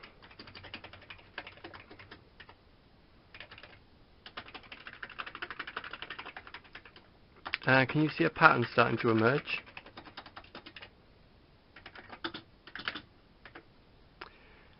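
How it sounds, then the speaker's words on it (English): Keys on an Amiga 500 Mitsumi membrane keyboard are tapped in quick runs of light clicks, with a denser burst of rapid typing partway through, close up while a person talks over much of it. "So you just run through, tapping all the keys."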